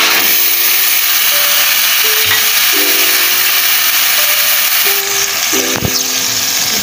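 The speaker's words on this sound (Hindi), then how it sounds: "अब इस स्टेज में मैं इसके अंदर टमाटो प्यूरी ऐड करूँगी।" Tomato puree going into a hot pan for a black chana masala, giving a loud, steady sizzle with hiss and steam that runs the whole time, with faint clinks of utensils now and then.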